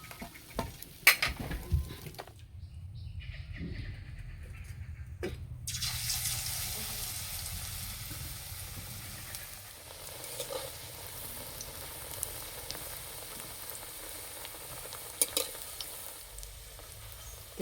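Vegetarian pumpkin flower fritters fry one at a time in a small amount of oil, starting with a running tap and clatter, then settling into a steady, moderate sizzle with occasional clicks and no speech.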